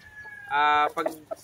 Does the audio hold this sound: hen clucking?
yes